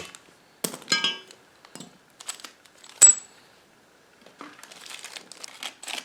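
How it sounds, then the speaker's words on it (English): Bubble wrap is crinkled and pulled off a motorcycle lift stand for a Honda CRF250L, giving sharp crackles, crinkles and pops in short bursts close up, with a few quiet gaps between. "There's the bubble wrap."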